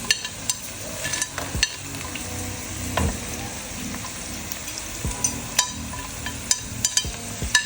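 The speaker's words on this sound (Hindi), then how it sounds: "अब हम इसमें डालेंगे कड़ी पत्ते।" Curry leaves and spices hit hot oil with sautéed onion in a pan, giving a steady close sizzle punctuated by sharp spoon clinks and stirring scrapes.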